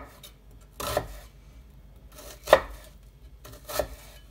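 Knife cutting into beef or goat meat on a board for samosa filling: three distinct, evenly spaced chops, each a short crisp thud against the board, close and alone in a quiet room.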